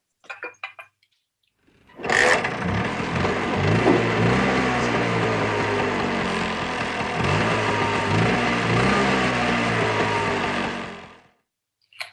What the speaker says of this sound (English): Charge up the scooter